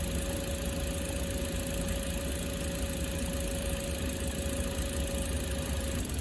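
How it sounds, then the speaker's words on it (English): A Toyota engine idles steadily and loudly at close range, with a constant hum and a thin steady whine over it and no talking. "Let's start the engine"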